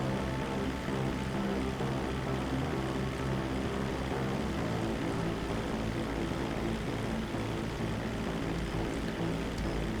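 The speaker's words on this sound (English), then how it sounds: "I hate seaplanes" A seaplane's propeller engine drones steadily in the video game Grand Theft Auto Online, a loud, continuous buzzing roar that fills the whole stretch without change or speech.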